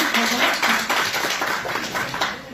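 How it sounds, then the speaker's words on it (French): A church congregation at a Sunday service claps together in a fairly rhythmic, close burst of hand claps, steady and lively throughout, with faint voices mixed in. "Est-ce qu'on va applaudir encore?"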